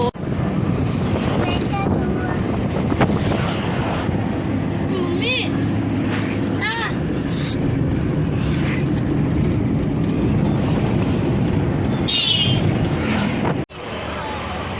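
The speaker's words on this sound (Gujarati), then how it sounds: "પવન બહુ જ આવે છે" Heavy wind roars steadily into a moving car, a constant low rumble with gusty buffeting throughout, and voices talk faintly underneath before a brief dropout near the end.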